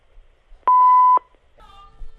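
A single steady electronic answering machine beep lasting about half a second, clear and loud, followed by faint room noise and a brief tonal blip.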